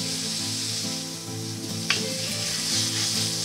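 Onions, garlic and celery sizzle steadily in a hot pan while cooking a pork rib guazzetto, a continuous close frying hiss with one sharp utensil tap near the middle.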